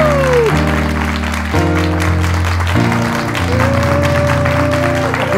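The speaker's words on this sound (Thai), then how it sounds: "ขอเสียงปรบมือหน่อยครับ" An audience applauds at a Thai piano music show, the clapping sitting beneath loud, sustained musical tones that shift in steps throughout.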